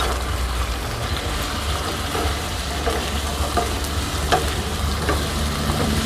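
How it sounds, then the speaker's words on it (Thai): Pork cracklings are stir-fried with curry paste in a pan in a rustic camp-style kitchen, producing a steady close sizzle with stirring scrapes and a low rumbling hum underneath. "เราจะผัดไม่นานนะคะคลุกเคล้าให้เข้ากัน"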